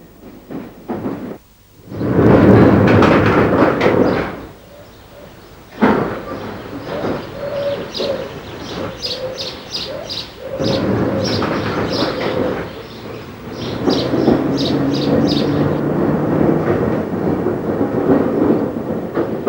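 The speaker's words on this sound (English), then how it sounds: "tube trains run into North Weald" A London Underground tube train running into North Weald on a rural branch line, a loud rumble building and fading with rhythmic rail clicks, while pigeons coo nearby.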